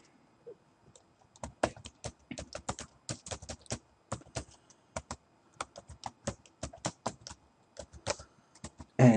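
Rapid typing on a computer keyboard in a quiet room, a long series of crisp, close key clicks in irregular bursts and short pauses, ending with a louder thump.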